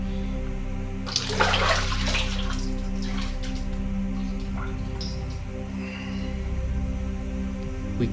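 Water runs to fill a bath as a steady, close splashing stream that continues throughout over a low tonal background.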